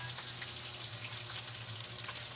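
Fish fries in a pan of oil with a continuous, dense sizzle that stays close and even throughout, with no talking.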